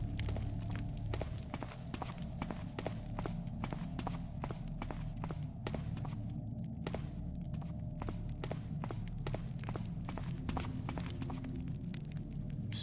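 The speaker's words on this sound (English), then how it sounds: "Where were those footsteps I was hearing then?" Steady footsteps in the stealth video game Thief, from a fan mission, thud at an even walking pace for the whole stretch over a constant low ambient hum, with no talk.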